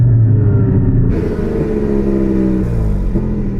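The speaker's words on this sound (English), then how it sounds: "Give it a tiny rev for me." A Porsche car engine with a fault idles with a low rumble, then revs up in a rising whine and drops back down unevenly, loud and close.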